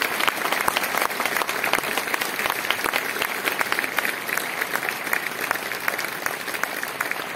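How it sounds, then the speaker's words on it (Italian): Sustained audience applause for the members of a philharmonic band at a Puccini concert, a dense, steady clatter of many hands clapping throughout with no speech. "veramente un grande applauso a tutti i musicisti, componenti della Filarmonica."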